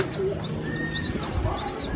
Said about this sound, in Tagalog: ganun ang mangyayari sa ibon natin, magkakagulo sila kapag nalipasan ng gutom